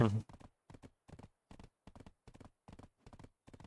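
Donkey hooves clip-clop in Black Desert Online, a steady rhythm of about a dozen evenly spaced, close, moderately loud hoofbeats after a brief opening sound.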